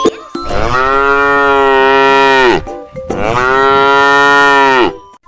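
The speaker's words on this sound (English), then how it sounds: "This is a cow. Cow says," A cow moos twice, each call a long, loud, close low bellow lasting over two seconds, separated by a brief pause.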